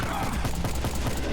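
Rapid gunfire from powerful rounds fired at mutants in the Lost World mod game, a dense fusillade of close, overlapping shots across the whole moment.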